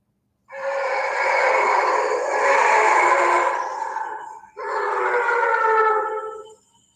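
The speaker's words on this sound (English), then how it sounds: "you can hear them all talking, like howling back and forth, like in the back" Two long, wavering howls, close and loud, the second starting right after the first fades, with a steady tonal quality and no talking.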